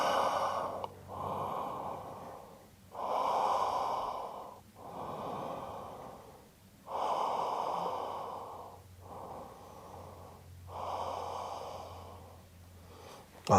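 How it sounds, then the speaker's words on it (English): Slow, deep breaths during a yoga forward fold, about six long inhales and exhales in a steady rhythm, close and soft with no talk. "And a couple breaths here."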